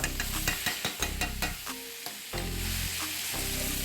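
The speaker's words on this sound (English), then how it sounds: "when the vegetables are just about done, throw in a heaping of minced garlic." Vegetables and minced garlic sizzle in a hot pan, with a steady frying hiss broken by rhythmic stirring scrapes of a utensil, close and fairly quiet.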